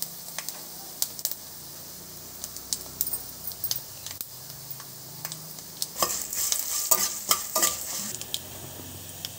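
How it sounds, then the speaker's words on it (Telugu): Dried red chillies and curry leaves fry in hot oil for a tempering, giving a soft continuous sizzle with sharp metallic clicks of stirring that grow busier and louder toward the end. "ఈ పోపు మొత్తం కాసేపు వేగాలి"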